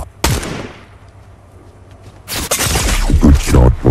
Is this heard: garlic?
no